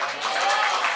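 A brief burst of applause follows a recitation at an Easter catechism recitation contest in a church setting, a dense patter of many hands clapping with some voices mixed in.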